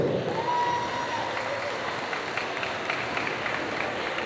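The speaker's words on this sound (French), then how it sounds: "Yumenodon, applaudissements." A crowd applauding in a dense, steady wash of clapping that fills the whole stretch, at a cosplay contest.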